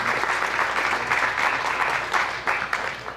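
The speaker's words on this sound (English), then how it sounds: "Let's give him a round of applause first" Steady, full applause from a conference audience after a speaker, continuous and fairly close, swelling and easing slightly with no voices over it.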